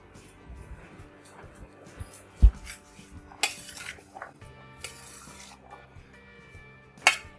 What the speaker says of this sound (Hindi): अब इसको मैं चम्मच से थोड़ा सा मिक्स कर लेती हूँ, सारे फ्रूट को बड़े चम्मच से।